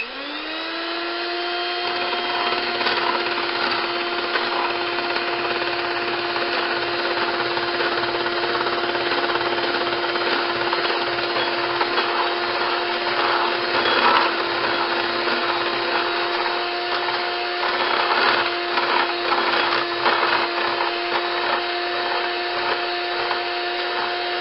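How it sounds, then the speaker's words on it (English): An electric mixer whisks homemade mayonnaise in a steady, high-pitched motor whine that spins up at the start and holds loud and constant, with faint rattling of the beaters in the bowl. "when I put the mixer on, I'm going to turn this way."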